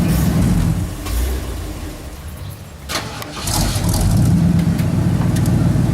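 An old Ford car engine runs steadily, a loud, close mid-pitched drone that dips briefly in the middle before settling back to a continuous idle.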